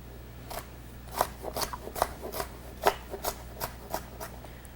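A cook's knife cutting strips on a cutting board, a quiet run of about a dozen crisp, uneven chopping taps close by, with no talking.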